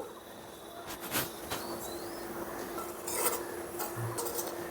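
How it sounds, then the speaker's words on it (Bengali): Semolina is stirred and dry-fried in a pan, with a soft scraping hiss and occasional clinks and scrapes of a utensil against the metal, close and fairly steady. "প্রথমেই ভেজে নেব সুজি।"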